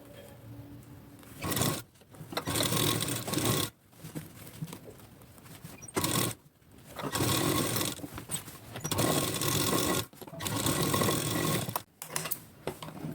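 Sewing machine stitching a blouse seam: fast whirring bursts of stitching, several runs of one to two seconds separated by short pauses, close and steady.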